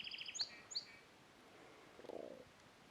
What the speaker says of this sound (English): Lots of birds out here.